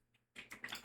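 A computer keyboard gets a short, quick burst of several faint keystrokes after a brief silence.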